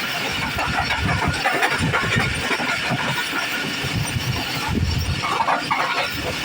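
Awam Express train overtaking at Kot Lalu station in Pakistan, a steady close rumble of diesel engine and rolling wheels heard from a passing or waiting train, continuous and fairly loud with no speech.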